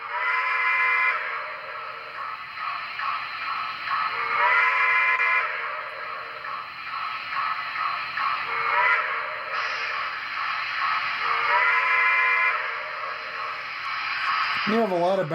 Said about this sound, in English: F13 is grade crossing horn or whistle.